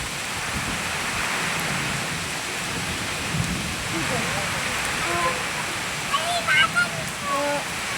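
Steady rain hisses across the whole stretch, pouring down on a village home with a mud house and mango trees during a storm, with a few faint calls rising near the end.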